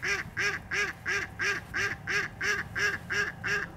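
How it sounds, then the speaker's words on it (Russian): A duck quacks in spring, about eleven evenly spaced, nasal calls in a steady rhythm, moderately close and clear against a quiet background. "А вот с утра селезень не заставил себя долго ждать"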